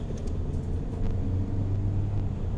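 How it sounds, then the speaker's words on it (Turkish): An automatic Fiat Ducato camper van accelerates under a short press of the throttle, a steady low engine rumble with road noise heard from inside the cab. "Çok kısa böyle bir gaza basacağım."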